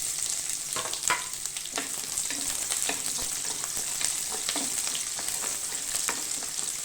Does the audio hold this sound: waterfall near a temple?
no